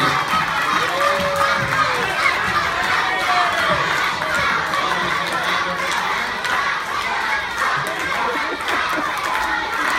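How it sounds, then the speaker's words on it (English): Young schoolchildren at a school assembly cheer and shout continuously for a plinko contestant, a dense, steady crowd roar with overlapping voices. "Let's cheer on our first contestant"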